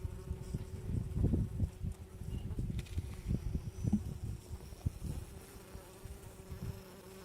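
Honey bees buzz densely around a hive during a queen release, the low drone close and steady with swelling passes of individual bees.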